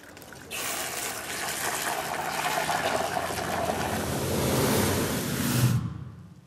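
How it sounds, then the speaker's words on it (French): Water thrown into hot cooking oil during a Paris firefighter training exercise sets off a sudden loud roaring whoosh that surges for about five seconds and then dies away, with no talk over it. "Surtout pas mettre de l'eau dans de l'huile."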